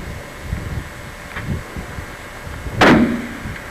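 Rifle gunshot during a northern Manitoba caribou hunt, a single sharp loud crack near the end, over wind buffeting the microphone and faint outdoor rustling.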